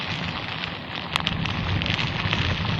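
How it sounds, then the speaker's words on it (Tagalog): Heavy rain, with wind, falls during a delivery rider's day and makes a dense, continuous roaring hiss of close downpour with scattered sharper patters throughout. "Napakalakas ng ulan."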